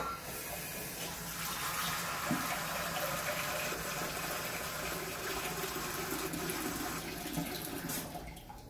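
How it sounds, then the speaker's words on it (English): Water running from a tap into an Instant Pot of beef stew with vegetables, a steady hissing, splashing flow that holds constant for several seconds before tapering off near the end. "We're gonna add some water."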